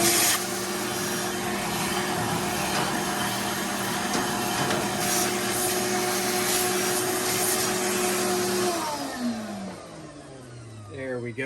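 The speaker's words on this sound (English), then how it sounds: "I'm gonna vacuum right around this lip here" A vacuum cleaner whines steadily while sucking ash from a Traeger Timberline XL pellet grill, with scraping and rubbing of the nozzle against the grill. A voice talks faintly underneath, and the motor's pitch drops as it winds down near the end.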